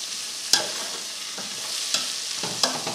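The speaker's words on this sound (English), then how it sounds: "You can hear that sizzling." Pine nuts and craisins sizzle in oil in a pot, a steady bright frying hiss with three sharp stirring scrapes spaced through it, no voices.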